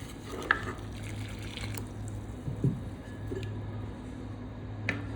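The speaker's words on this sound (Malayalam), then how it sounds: "ഇതേ ശർക്കരയുടെ വെള്ളം ഒരു അരിപ്പിലെടുത്ത് അരിച്ച് വെച്ചിട്ടുണ്ട് ഇതിന് ചൂടോടെ ഈ റവയിലേക്ക് ഒഴിച്ച് നമുക്കൊന്ന് ഇളക്കിയെടുക്കാം" Hot strained jaggery water pours into semolina and gets stirred, giving faint liquid trickles, drips and soft squishy scrapes over a low steady hum, with a few sharper clinks, no speech.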